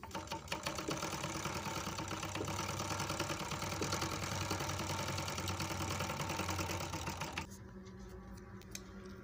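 An overlock sewing machine runs in a fast, continuous mechanical whir of rapid stitching for about seven seconds, close and steady, then stops abruptly, leaving a quiet room.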